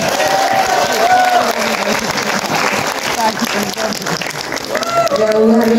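Applause from a cinema audience in Dharan, Nepal, at a screening of a film featuring mayor Harka Sampang: dense, steady clapping sustained throughout, with crowd voices and a few tonal sounds rising over it.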